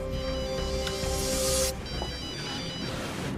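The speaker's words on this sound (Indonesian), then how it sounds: "tiba-tiba ponselnya berdering dan pemilik rumah itu menelponnya" A phone ringtone plays a steady electronic tone, then cuts off abruptly, leaving quiet room noise.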